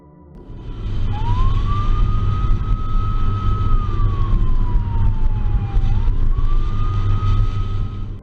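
A police car siren wails loud and steady through a chase after a drag race, its tone rising and falling in long smooth sweeps over a constant low engine and road rumble.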